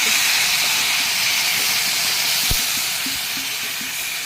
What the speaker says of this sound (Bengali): এখানে এবার আমি জলে ঢেলে